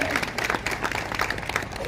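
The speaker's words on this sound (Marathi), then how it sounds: "टाळ्या वाजवल्या पाहिजे ना" A crowd at an election campaign event claps together in a dense, continuous burst of applause, fairly loud and close.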